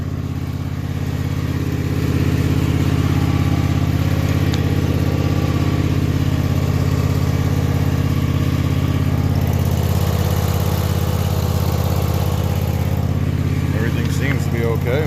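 A Husqvarna MZ5424S zero-turn mower engine runs at a steady idle, close and loud, with an even low drone throughout. Someone speaks briefly over the engine.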